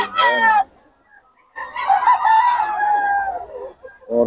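A bull stag rooster crows loudly and close by, one long drawn-out call after a short opening burst, with someone talking briefly around it.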